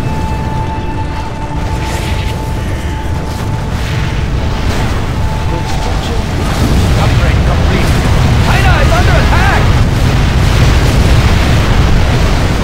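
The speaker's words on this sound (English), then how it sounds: "Or do you want the bombing to continue?" Bombing explosions in the video game Shockwave make a loud, sustained roar of heavy rumbling blasts. The roar grows denser and louder in the second half.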